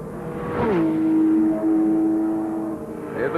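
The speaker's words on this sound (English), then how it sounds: "Listen to the V8 here." Peter Brock's V8 race car from the 1982 Australian sports sedan and GT championship, a loud engine note climbing sharply then holding a steady drone as it passes close, then fading.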